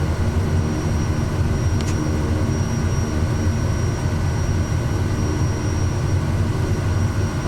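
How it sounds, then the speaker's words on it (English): Steady droning engine of an SWS Kodiak 100 taxiing in Microsoft Flight Simulator 2024, a constant low rumble with a thin high whine, unchanging and loud throughout with no talk. "Let's taxi to the runway."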